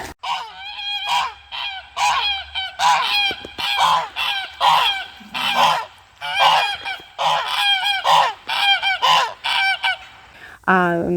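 A pet goose honks loudly and repeatedly at close range, a long run of harsh nasal calls in quick irregular bursts that continue almost without pause to the end.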